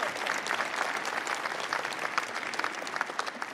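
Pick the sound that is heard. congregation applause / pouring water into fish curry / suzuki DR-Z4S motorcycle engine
congregation applause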